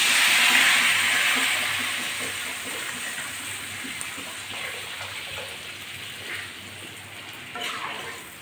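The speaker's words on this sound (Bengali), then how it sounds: "জল দিয়ে দিচ্ছি।" Water being poured into a pan for rui fish curry: a loud hissing gush at first that settles into a steady, softer splashing stream, with faint clinks near the end.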